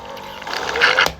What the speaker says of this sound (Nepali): पानी फ्लो भइरहेको